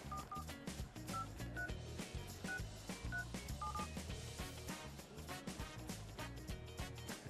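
A rapid run of telephone keypad tones dialing out for a call during a prize-game broadcast, many short beeps in quick succession, faint over a dense background.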